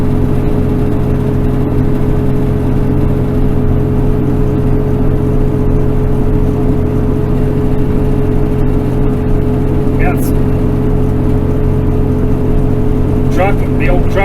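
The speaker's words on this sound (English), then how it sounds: "The old truck is climbing nice" An old truck climbing a mountain highway through Wyoming's Bighorn Mountains, its engine a steady, loud, low drone with road noise throughout.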